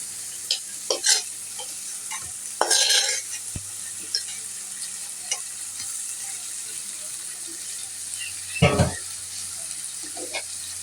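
Fried potatoes are stirred into a cooked spice masala in a pan: a soft, quiet sizzle broken by scattered scrapes and a few louder stirring bursts.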